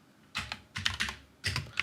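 Quick bursts of computer keyboard keystrokes type a mkdir command, close and clear, in three short clusters over about two seconds with no voice.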